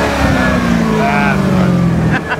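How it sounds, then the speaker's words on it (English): Supercharged Corvette Z06 engine revving up loud and close, a steady throaty roar that rises in pitch and settles, with a voice briefly over it. "Throw a rev give it a rev."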